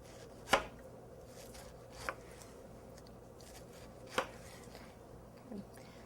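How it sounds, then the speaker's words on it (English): A knife slicing a pineapple into round slices on a cutting board, with three distinct chopping cuts spaced about two seconds apart, fairly close, against a quiet kitchen background. "what you would want to do is you're going to go ahead and make yourself some slices."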